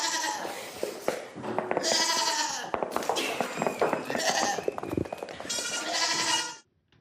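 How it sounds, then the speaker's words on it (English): Baby goats at a farm bleat loudly and repeatedly at close range, their overlapping wavering cries filling the scene in several long bursts before cutting off abruptly, with some voices faintly underneath. "so come on and get your feed of baby goats"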